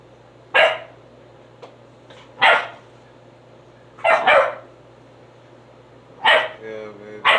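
A dog barks in short, loud, separate bursts, about five barks spread over several seconds, over a low steady hum in a quiet room.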